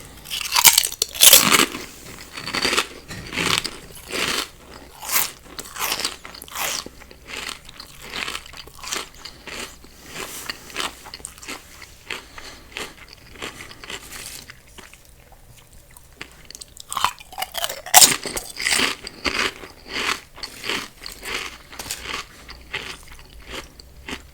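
Folded tortilla chips are crunched and chewed close to the microphone in a steady run of loud, sharp bites and crackles, pausing briefly about two-thirds through before the crunching picks up again.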